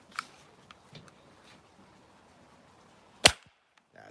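A firework shot tube fires once, a single sharp crack late in the stretch, loud against quiet surroundings with a few faint clicks and knocks before it.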